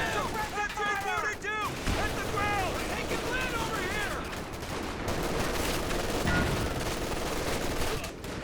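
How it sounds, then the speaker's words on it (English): Sustained machine gun fire rattles through a Company of Heroes 2 battle, dense bursts blending with distant explosions while a commentator talks over it. "Getting suppressed by the machine gun."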